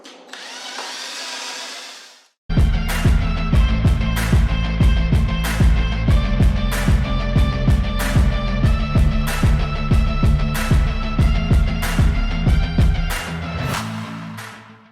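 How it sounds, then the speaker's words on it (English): After a short burst of hiss, a power drill grinds steadily for about ten seconds, drilling out a rusted bolt on a 1951 John Deere B tractor, with a rapid, rattling chatter, close and loud, then stops. "is to drill it out"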